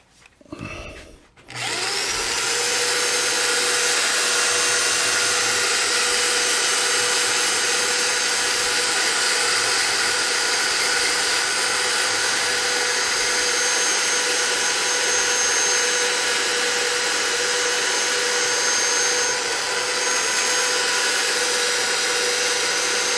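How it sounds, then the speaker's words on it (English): A turned wooden gnome is sanded on a spinning lathe, a steady loud whirring hiss that starts after a brief moment and runs continuously, close up with no talking. "what I'm going to do is I'm going to sand that off"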